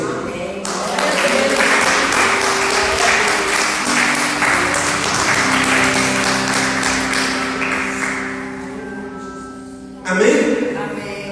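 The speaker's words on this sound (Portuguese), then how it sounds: "Se eu fosse você, eu aplaudia o Senhor." A church congregation applauding at an evening service, loud sustained clapping mixed with crowd noise and music, fading near the end before a brief final burst.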